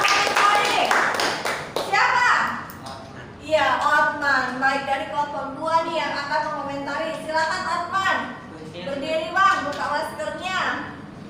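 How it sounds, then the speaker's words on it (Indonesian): An Indonesian school class claps briskly for a few seconds in a classroom, the quick clapping then giving way to children's voices speaking in unison. "tepuk tangan dulu untuk kelompok 1"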